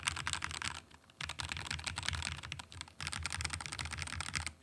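Rapid typing on a mechanical keyboard, a dense stream of crisp clicks broken by two brief pauses, close up with no voices.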